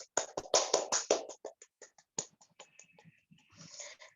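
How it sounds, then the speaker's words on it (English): A small classroom group claps after a lesson, sharp sparse hand claps that start loud and quickly thin into a few scattered, fading claps. "now let's give applause for us."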